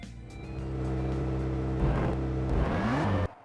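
A car engine in a 1998 video game hums and revs steadily for about three seconds, then stalls abruptly into near silence.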